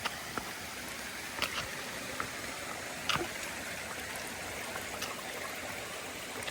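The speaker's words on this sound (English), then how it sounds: "We have a little water crossing here." A stream rushes over a hiking trail water crossing, a steady close burble and trickle with occasional splashy patters, no talking.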